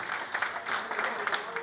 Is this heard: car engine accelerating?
no